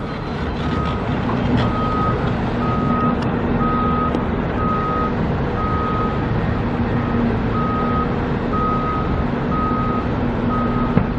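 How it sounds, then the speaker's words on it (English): Dump trucks working at a stadium construction site in Las Vegas, with a loud, regular reversing beep repeating about every second over a constant heavy diesel engine rumble, no talk. "it kind of looks like both of these dump trucks, from the stuff they're scraping up, you know, pulling out, they're dumping it all in this center pile"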